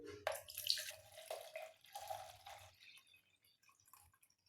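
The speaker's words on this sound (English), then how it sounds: "Now I will add my water." Water pours into a cup set on a digital kitchen scale, a quiet trickling splash in a few short bursts that fades to drips near the end.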